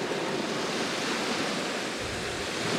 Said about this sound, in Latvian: Jā, jūras skaņas.